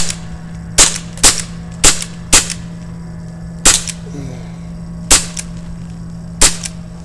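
A Crosman Vigilante CO2 revolver fires eight sharp, loud cracking shots at bottles outdoors, spaced unevenly about a second apart, over a low steady hum.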